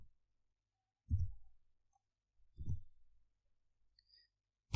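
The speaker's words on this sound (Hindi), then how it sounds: "तो इसके लिए मैं टाइप करता हूँ सिलेक्ट" Three isolated, quiet key presses on a computer keyboard, spaced about a second and a half apart, in an otherwise silent room.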